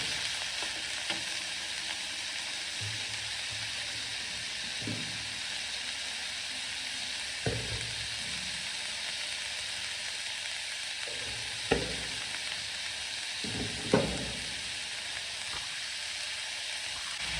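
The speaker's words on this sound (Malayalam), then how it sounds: "എണ്ണയ്ക്കകത്തിട്ട് നമ്മൾ അരിഞ്ഞ് വെച്ചിരിക്കുന്ന ഒനിയൻ, പച്ചമുളക്, ക്യാരറ്റ്, ഇത്രയും സാധനങ്ങളിട്ട് കുറച്ച് നന്നായി വഴറ്റിയെടുക്കാം" Onion, green chili and carrot sautéing in oil for a carrot curry, a soft, steady sizzle heard close, broken by occasional spatula scrapes and a couple of sharper knocks against the pan.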